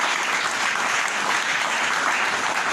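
A church congregation claps steadily throughout, a dense continuous wash of applause with no pauses and no speech on top.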